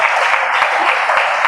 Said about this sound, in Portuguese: pode glorificar a Deus com as palmas bem forte, bem alegre